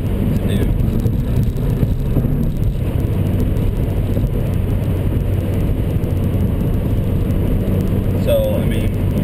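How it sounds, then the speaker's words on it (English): A Ford Fiesta ST cruises at highway speed in 6th gear, producing a steady low engine drone and road rumble from inside the cabin that holds even throughout, without pauses. "we're cruising along here at highway speeds, 6th gear"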